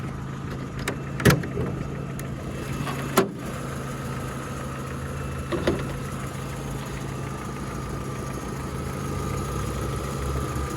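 An Opel Zafira 1.8 car engine idles steadily and evenly, with a few sharp clicks and knocks over the constant low hum.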